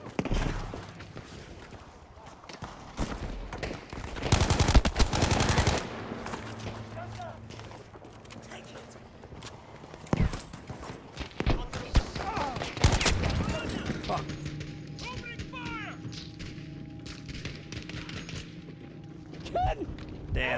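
Gunfire in Battlefield 5 on a Pacific conquest map, with loud bursts and volleys of shots, some close and some distant, scattered through the battle alongside footsteps and mechanical clatter while someone talks over the action.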